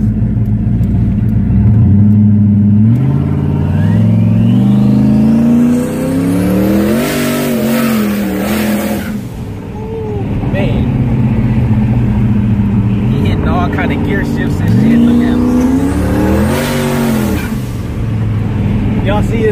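A fast G-body car on rims accelerates hard, heard from inside with repeated surging revs as the engine climbs through gears, loud rising whines and rumble separated by brief shift dips.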